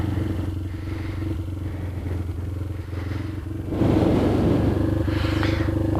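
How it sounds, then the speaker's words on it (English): A Kayo MR150 dirt bike engine runs on a cold day in a steady low idle with mechanical clatter, then rises slightly louder and rougher for the last couple of seconds. "Seems to be running okay."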